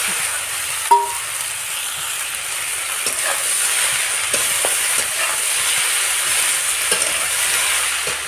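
Chopped spinach hits a hot pan and sizzles in a steady, close hiss, with a few faint clinks scattered through and no talking.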